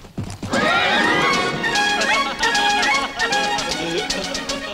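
Horse whinnying loudly and at length close by, with hoof clip-clop and voices talking underneath.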